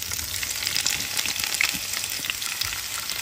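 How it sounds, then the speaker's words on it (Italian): Cherry tomatoes sizzle and crackle steadily in hot oil in a pan, a close, continuous frying hiss with small pops and no talk. "L'olio si è riscaldato, possiamo inserire i pomodorini."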